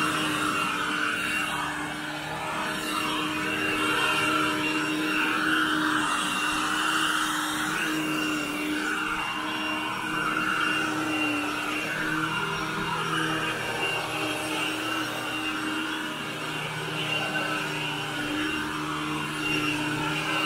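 A vacuum cleaner runs continuously over an area rug in a bedroom, a steady close whining drone with slight shifts in pitch as it moves, heard alone for about twenty seconds.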